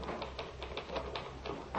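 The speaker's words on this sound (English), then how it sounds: "discovers him seated at his typewriter," Typewriter keys peck out a society column at a steady clattering rhythm, rapid light taps in quick succession, faint and somewhat distant beneath a hiss of old radio noise, no voices.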